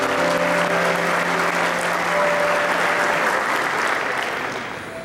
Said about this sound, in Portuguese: Aplaude ao Senhor se você crê nisso